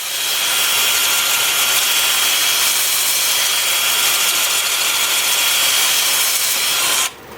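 Steady, loud abrasive rubbing of a wooden bowl spinning on a lathe against a sanding disc, continuous and even for several seconds, then dropping off abruptly near the end.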